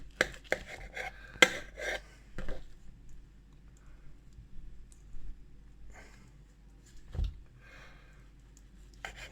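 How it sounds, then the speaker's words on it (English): Knife cutting through homemade pea protein seitan, a dense, meaty plant-based loaf, giving a few sharp close chopping clicks at the start, then quieter scattered cuts with long pauses. "Now you can cut this up however you like."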